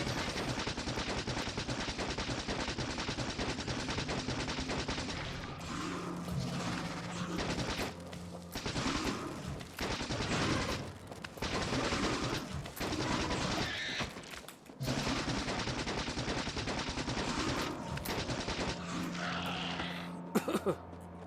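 Turret gunfire in the Factorio Space Age video game, with continuous rapid automatic bursts that stay loud and dense throughout, joined by low rumbling and explosions from a base under attack.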